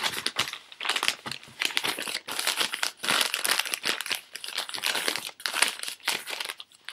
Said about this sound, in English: I'm going to take a piece and tear it in half. I'm going to take it and fold it in half again.